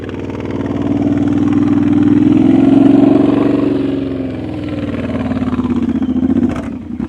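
Motorcycle engine revving as the rider opens the throttle during slow-speed riding practice, a loud close rising and falling drone that swells, eases and ends with a sharp clatter.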